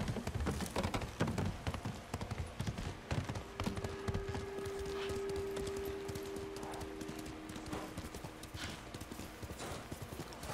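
Rapid clip-clop of a horse's hooves galloping in Ghost of Tsushima, a fast steady rhythm that runs throughout, with a brief whinny and a faint sustained tone in the middle.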